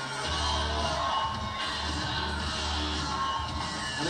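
Arena crowd of about 10,000 at a kickboxing event in Milan, a dense, steady roar of cheering and yelling that stays loud and continuous throughout.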